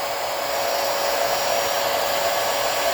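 A hair dryer blowing hot air, a steady loud whirring hiss that holds constant throughout with no talking.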